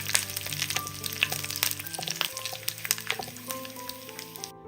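Onions with halved dried red chillies frying in a pan over medium flame, a steady close sizzle with occasional stirring scrapes and clinks throughout.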